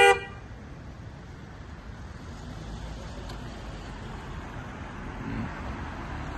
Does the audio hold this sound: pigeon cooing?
no